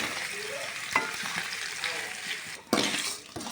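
Palak paneer ingredients frying and being stirred in a pan, a steady soft sizzle with occasional scraping and spoon knocks against the metal, close and moderately loud.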